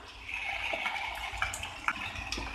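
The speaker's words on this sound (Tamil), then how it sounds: "இப்போ நம்ம வந்துட்டு எடுத்து வச்சுருக்க இந்த டொமேட்டோ பியூரி சேர்த்துடலாம்" Tomato puree goes into a pan of sautéed capsicum with a steady wet sizzle and a few soft clinks and splashes, close and fairly quiet.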